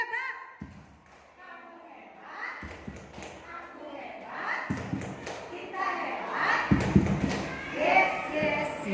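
A group at a school teacher-training session performs the rhythmic 'tepuk hebat' clap, with sharp bursts of clapping recurring about every two seconds, mixed with voices chanting and talking.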